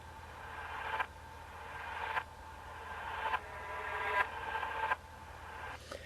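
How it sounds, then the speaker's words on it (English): A reversed cymbal swell repeats several times, each wash of noise building gradually and cutting off abruptly, in a steady rhythm. "Here we've got a reverb backwards kind of cymbal sound here."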